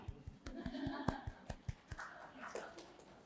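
Scattered hand claps at a seminar on participatory research, a few sharp slaps in an uneven rhythm at close range, with voices murmuring underneath.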